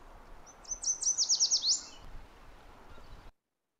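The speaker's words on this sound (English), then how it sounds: "yellow warblers are also highly variable in their song" A single bright yellow warbler song, a quick run of sweet rising-and-falling notes accelerating to a flourish, fairly clear over faint background hiss.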